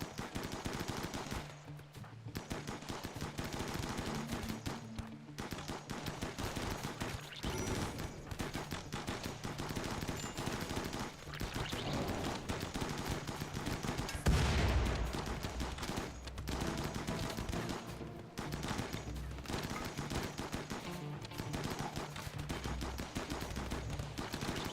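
Dense, continuous automatic turret gunfire in RimWorld, rapid overlapping bursts of shots running loud and steady throughout with a heavier blast near the middle.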